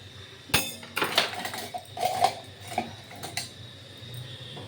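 A metal fork clinks against a plate while handling pan-made paneer tikka, several sharp scattered clicks and taps, close and moderately loud in a quiet room.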